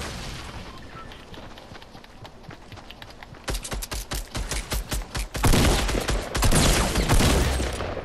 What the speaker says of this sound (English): Somebody shooting grenades.